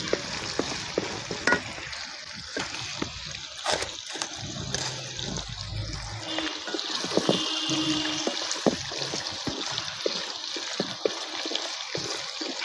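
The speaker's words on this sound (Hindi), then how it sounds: "यह मे यथ तेलस मज पूरा फ्राई करुन।" Food frying in hot oil, a steady broadband sizzle with bursts of crackle and a few sharp pops and clatters, fairly close and continuous throughout.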